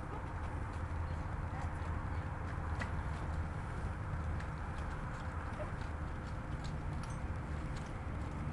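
Brumby horse Harry walking while ridden bareback, his hooves giving a steady, even clip-clop at moderate distance over low background noise, with faint voices at times.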